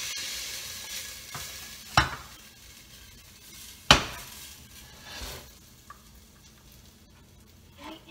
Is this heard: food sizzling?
yes